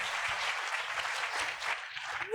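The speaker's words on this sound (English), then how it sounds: "Round of applause." Audience applause at a college talk show, a moderately faint, even patter of many hands clapping that continues throughout.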